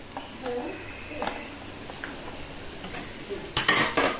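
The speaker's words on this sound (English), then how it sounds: "So now let us add the bhindi." Bhindi goes into a pan with browned onion and potatoes: a low sizzle with faint clinks, then a louder burst of crackling and scraping as the okra lands and is stirred.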